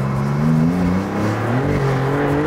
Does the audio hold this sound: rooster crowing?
no